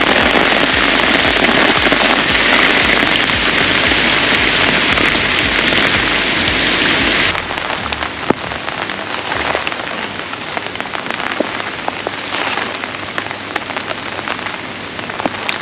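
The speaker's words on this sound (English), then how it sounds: "Looks like the rain is here." Steady rain falling beside the River Trent during a feeder fishing session, a dense loud hiss that eases after a few seconds into lighter patter with scattered sharper drops, no voices.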